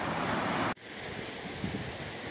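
Water rushes into an empty canal lock on a river navigation at Kegworth New Lock, a steady broad roar that cuts out abruptly for an instant before resuming as a continuous churning wash.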